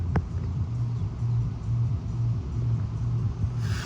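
A BMW M2's engine rumbles steadily at close range, a low droning idle with slight pulsing throughout and no talk.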